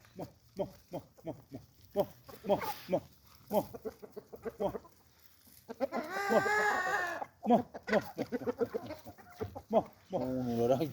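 Hens and young chicks cluck and cheep close by in a farmyard, in short bursts that trade off with a person talking nearby; the birds grow louder and more sustained toward the middle.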